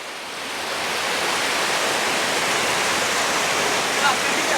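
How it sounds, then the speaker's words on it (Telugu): Canal water pours through a raised gate like a waterfall, a loud, steady broadband rush that swells in over the first second and then holds constant throughout. "వారే జలపాతం రా"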